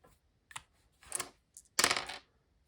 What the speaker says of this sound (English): Okay, I need to shake these dice up a little bit better.